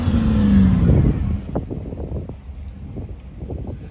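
Jensen CV8 Mark II and Mark III cars pass by at an airshow, a loud engine roar with wind rumble that sweeps past and then fades into a lower, fainter drone.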